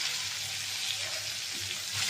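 Onions and tomato frying in a little oil with nigella seeds, dried chillies and bay leaf, a soft steady sizzle close by.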